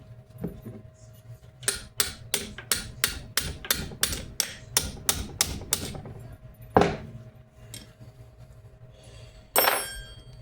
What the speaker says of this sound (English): if you have to, you use take a hammer